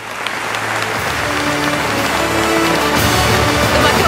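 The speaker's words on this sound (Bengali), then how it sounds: "খুব জোরে হাততালি হোক আমাদের বর্ষসেরা বাঙালি রিচা ঘোষের জন্য" Applause for award winner Richa Ghosh, a World Cup-winning cricketer, at the Sera Bangali 2025 ceremony, a dense crowd clapping that swells louder after a few seconds and keeps going.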